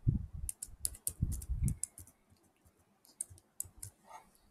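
Computer keyboard tapped as a password is entered, a quick run of soft clicking keystrokes in uneven bursts, close and fairly quiet, with a pause midway before a few more taps.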